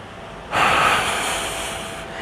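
A single long, deep exhale through the nose, loud and close, follows a quiet breath during a lower-back pain stretching exercise, trailing off slowly over about two seconds.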